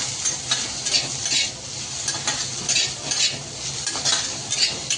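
Okra sizzles in a pan and is tossed and stirred repeatedly, with rhythmic scraping and clatter over a steady frying hiss, close and clear.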